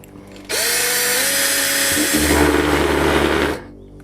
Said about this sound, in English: let's get the drill out